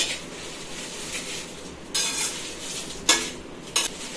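Dry chillies being stirred and turned in a hot pan while dry-roasting for homemade chilli powder, a steady soft scraping rustle with a few sharper louder scrapes, close and without talk.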